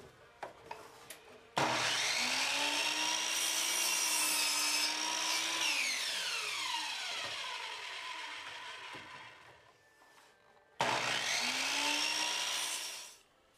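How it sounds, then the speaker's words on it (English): A power saw whirs through wood in a long cut that winds down slowly, then starts again briefly near the end, with faint knocks between runs in a quiet workshop. "chop saw here and here. And then belt sander on both sides."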